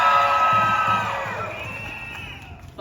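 A crowd at a street protest march cheers loudly, with whoops and high shouts that swell and then slowly fade.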